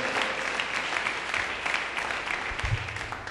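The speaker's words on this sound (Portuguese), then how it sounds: "aquele que crê nele pode dar uma salva de palmas para Jesus, Senhor" Church congregation clapping for Jesus during a service, a steady, dense wash of applause filling the whole stretch at an even level, with a brief low thump near the end.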